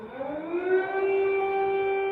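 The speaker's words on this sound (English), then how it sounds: "as air raid sirens rang out across" An air raid siren rises into a long sustained wail, steady and fairly loud, heard alone with no talking.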